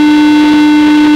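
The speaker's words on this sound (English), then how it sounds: "There's the foghorn." A foghorn blows as one very loud, steady, deep tone with strong harmonics, held unbroken for over a second with no other sounds.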